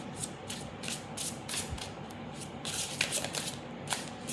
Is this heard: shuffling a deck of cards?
yes